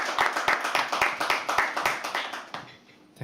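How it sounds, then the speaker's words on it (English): A small crowd at a live poetry open mic claps in a quick, steady rhythm, the claps fairly close and bright, then fading out near the end. "Can we please like clap properly?"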